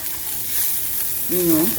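Steady sizzling hiss of meat pie filling frying in a hot pan, with a brief voice-like tone near the end.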